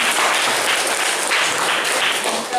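Steady, dense applause from a group in a classroom, continuous clapping filling the whole moment without a break.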